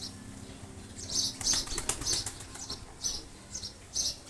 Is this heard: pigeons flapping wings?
yes